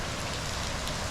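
Heavy rain pours onto a shelter in a steady, dense, loud hiss of drops that fills the whole moment, with no voices.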